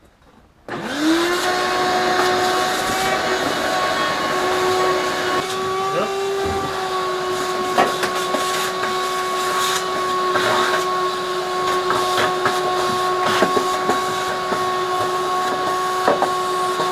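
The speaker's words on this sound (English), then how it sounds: "So we're going to get the vacuum out." A vacuum cleaner switches on and runs with a steady, loud whine and drone, with a few faint knocks and bumps over the motor.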